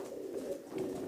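A racing pigeon coos softly in a loft, a low, throaty, continuous murmur close to the listener.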